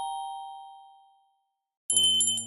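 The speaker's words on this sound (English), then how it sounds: "Ding dong." A doorbell rings once with a clear fading chime, then after a short silence a brighter burst of jingling bell tones cuts in and continues to the end.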